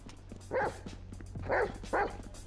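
A dog in Grand Theft Auto V barks three times, loud and close, sharp single woofs spaced about half a second to a second apart over a low steady game hum.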